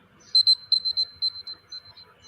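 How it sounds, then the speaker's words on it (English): An electronic timer buzzer sounds at a presentation event as a series of sharp, high-pitched beeps, about a dozen in irregular quick bursts, loud and clean in an otherwise quiet room. "after 13 minutes, we'll sound a buzzer that will sound like this"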